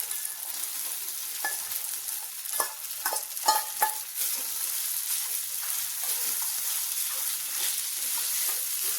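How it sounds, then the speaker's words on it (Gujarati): Soaked sabudana khichdi with crushed peanuts is stirred in a pan over a low flame, giving a faint steady sizzle with a few sharper scrapes and clinks of the spoon near the start, and no talking. "હલાવી લઈશું, આવી રીતે બરાબર મિક્સ કરી દઈશું"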